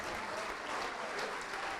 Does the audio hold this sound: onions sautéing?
no